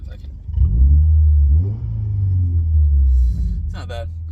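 A Subaru WRX (FA20, Cobb Stage 1) with a muffler delete and 4-inch tips revs up, giving a loud, deep exhaust rumble that rises, holds and drops back over a few seconds, with crackles near the end.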